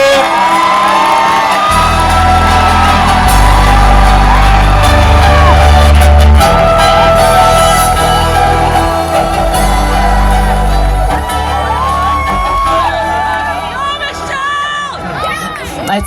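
A large rally crowd cheers, whoops and shouts loudly and continuously for the next speaker, with a thumping music beat underneath before the noise thins toward the end.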